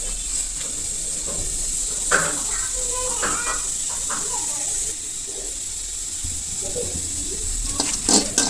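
Dried red chillies dry-roasting in a pan over a low flame for a village-style spicy chilli chutney, a soft steady hiss with occasional light stirring scrapes.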